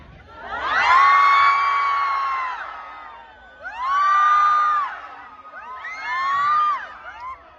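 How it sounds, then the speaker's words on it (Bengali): A big crowd at a gathering in Cumilla shouts in three loud surges, each rising and falling in volume as if following a leader's cue, with brief dips between them. "এবার আমার হাত যত উপরে থাকবে তত জোরে চিল্লাবা"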